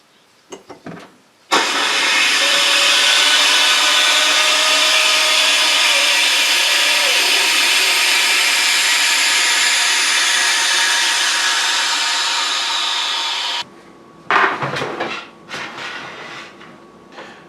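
Air rushes into a freeze dryer's chamber as it is depressurized, a loud steady hissing roar lasting about twelve seconds that slowly fades before cutting off, with a few clicks and knocks before and after.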